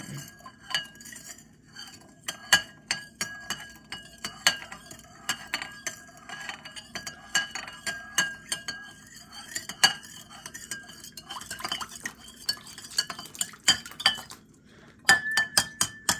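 A spoon stirs a drink, clinking repeatedly and irregularly against the glass, close and alone with no talk.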